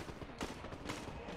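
Gunfire in a video game, a dense, noisy volley of rapid shots with a couple of stronger bursts, fairly faint and continuous over a short stretch.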